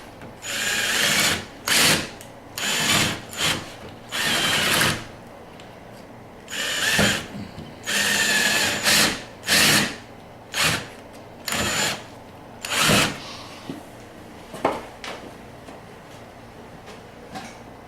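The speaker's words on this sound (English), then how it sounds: "gonna use the drill" A power drill whirs in repeated short bursts while repairing a door frame, starting and stopping roughly a dozen times with brief pauses between, fairly loud and close.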